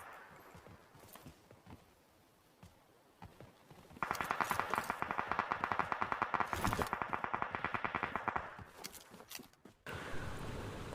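Gunfire in a battle royale shooter game, a rapid burst of closely spaced automatic shots that runs for several seconds in the middle after quieter game ambience and scattered footstep-like taps.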